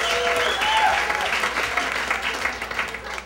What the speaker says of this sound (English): Clap if you heard about it.